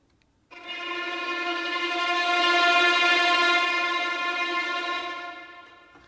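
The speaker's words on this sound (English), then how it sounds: "Which to me sounds like an aggressive tremolo." A bowed string ensemble tremolo played sul ponticello, near the bridge, enters abruptly and holds for several seconds. The tone is harsh, glassy and rich in overtones, swelling slightly before easing.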